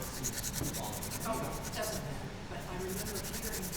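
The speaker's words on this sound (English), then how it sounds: "once it has color on it, you'll want to clean it off and resharpen it, and you can do that using a piece of sandpaper" An oil pastel blending stump is rubbed against a piece of sandpaper to clean and resharpen it, a soft, steady scratchy rasping heard up close under a voice talking.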